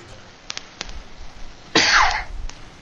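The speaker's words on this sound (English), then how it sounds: "that was a cough" A single sharp cough bursts out close to the microphone after a few soft clicks, then fades away over quiet background noise.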